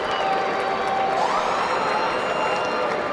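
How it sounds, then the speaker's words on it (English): A boxing arena crowd applauds and cheers both fighters after eight rounds of a championship bout, a loud, steady wash of clapping and crowd noise with a thin ringing tone drifting above it. "please put a big round of applause together for both of the fighters in this ring"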